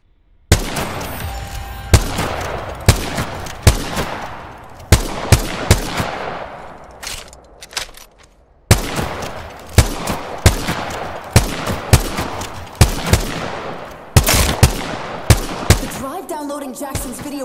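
Rapid bursts of gunfire from an Apex Legends cinematic, loud close volleys of shots in quick rhythmic clusters with echoing tails, brief pauses between strings of fire and a final stretch of rattling action, no talking.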